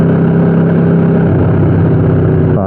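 A 2015 Aprilia RSV4 fitted with an Austin Racing exhaust runs with a loud, steady, harmonic engine drone close by, its pitch dipping and wavering briefly near the end.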